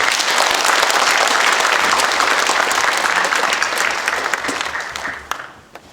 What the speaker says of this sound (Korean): 크게 감사와 격려의 박수를 부탁드립니다